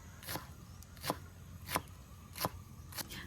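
A knife thinly slicing garlic, spring onion and celery leaves on a board outdoors by rice fields, five crisp separate cuts at a steady, unhurried rhythm, close and fairly quiet with no talking.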